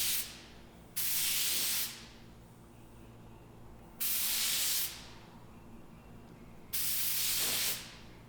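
Black Cerakote coating sprayed onto a Warthog grip, three separate steady hissing bursts of about a second each from a nearby spray gun, with quiet pauses between them.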